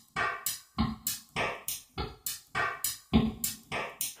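A drum kit built from sampled household objects such as a coffee mug, pool cue and chair, soaked in reverb, plays a steady looping beat of punchy hits with bright clattering tops, alone and close.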